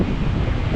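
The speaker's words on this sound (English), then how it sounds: "It is windy." Wind roars steadily outdoors during a Wisconsin snow storm, a loud continuous rumbling gust buffeting the microphone with no other sounds.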